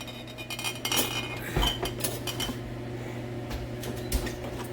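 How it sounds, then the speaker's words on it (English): Hot sterilized glass bottles lifted from an oven and set down on a board, giving several close glassy clinks and knocks over a steady low kitchen hum, with a brighter cluster of clinks partway through. "Now we're going to take our sterilized bottles out of the oven."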